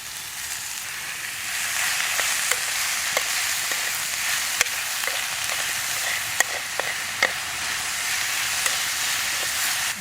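Ground beef and onions fry in clarified butter on a small fuel-tab trail stove outdoors. A steady, close sizzle runs throughout, broken by sharp clicks and scrapes of stirring.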